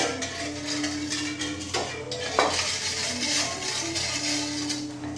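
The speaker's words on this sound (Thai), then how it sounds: "อันนี้ก็คนส่วนผสม" A Thai salad dressing of fish sauce, lime and sugar being stirred in a bowl, giving soft continuous scraping and clinking of a spoon, close and moderately quiet, with a faint steady hum underneath.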